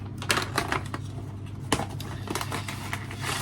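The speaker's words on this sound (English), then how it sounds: "let's open the box, see what we get in the box" Cardboard lid of an Airfix Curtiss Tomahawk IIB model kit box being opened, with close, crisp scraping, tapping and rustling of packaging and taped cardboard in irregular bursts, no talk.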